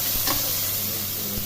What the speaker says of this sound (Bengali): এবার আমি এর মধ্যে কুচানো টমেটোগুলো দিয়ে দিচ্ছি